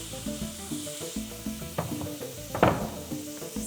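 Food frying in hot oil sizzles steadily up close, with a few brief clinks of utensils or pans over the crackle.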